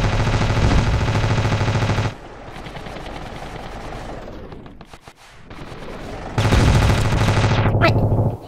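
Video game gunfire in Ravenfield, dense loud bursts of rapid automatic fire, a quieter stretch of scattered shots and distant rumble, then another heavy sustained burst.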